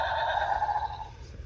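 A Jurassic World Dominion Rajasaurus toy gives a steady electronic creature call with a bright, whinny-like tone, fading slightly toward the end over low background hum.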